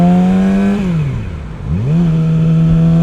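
A 2018 Yamaha R6 motorcycle engine drones steadily, then its pitch sags and dips during a downshift before climbing back to a steady loud hum, close by and with no voices.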